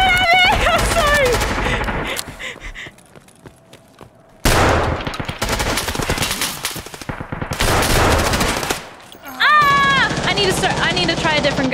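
Rapid bursts of gunfire in the video game Escape from Tarkov Arena, loud and close, separated by short quiet gaps. Excited voices shout between and over the shots.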